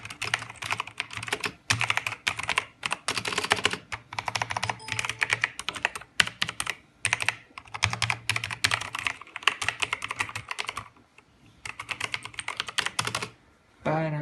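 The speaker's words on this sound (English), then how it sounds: "Okay, so the keyboard sounds pretty legit." Rapid typing on a cheap, budget computer keyboard, dense bursts of key clicks in uneven runs with short pauses, close and fairly loud, no voices.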